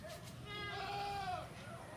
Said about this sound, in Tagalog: Yung guys, mayroon pa silang kambing oh.